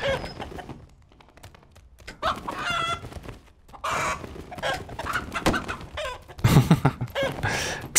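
Chicken clucking in the dungeon game Dark and Darker: a run of busy, close clucks and squawks with short pauses between them and a louder burst near the end.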